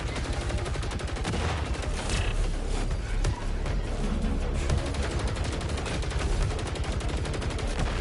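Dense, constant gunfire from enemies in the video game Saros, with rapid overlapping shots rattling without pause, loud and continuous throughout.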